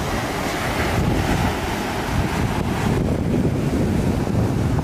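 Steady wind roars over surf breaking on a beach where windsurfers ride, a loud continuous wash with heavy buffeting on the microphone and no voices.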